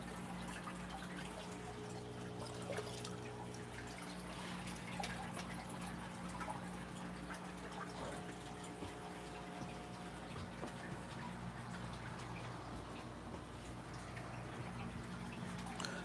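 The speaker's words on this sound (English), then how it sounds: "while I'm waiting for the water to fill up" Tap water steadily filling an aquarium during a water change at a home setup beside a rice fish pond, a continuous soft rushing trickle with faint drips, even and unbroken throughout.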